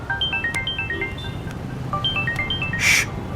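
A phone ringtone plays a repeating melodic pattern of bright tones over a low background hum, with a brief louder burst near the end.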